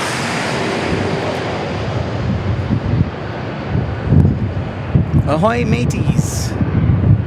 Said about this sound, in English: Another 737 MAX coming inbound on Alaska Airlines.